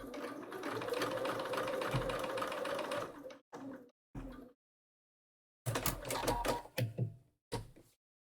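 Sewing machine running steadily for about three seconds, then a few short stop-start bursts of stitching as it back stitches, close and clear.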